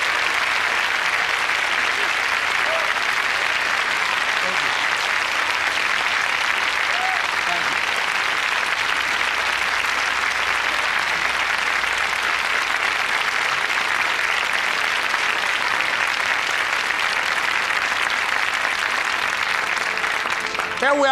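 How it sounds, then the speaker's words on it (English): A large audience at a motivational speech gives sustained, steady applause for Rosa Parks, dense and even throughout with no pause. "Let's give Mrs. Rosa Parks a round of applause"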